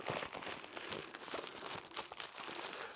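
A folded emergency survival blanket of thin foil being opened out, giving continuous crinkling and crumpling rustles up close at a soft level, with no talking.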